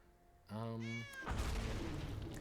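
A cat-dragon creature card in the Magic: The Gathering video game lets out a single loud, drawn-out meow with a rising then falling pitch, followed by a burst of noisy game effects.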